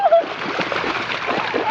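Splashing through deep floodwater in a flooded yard, with steady sloshing and spattering close by and a short vocal sound at the start.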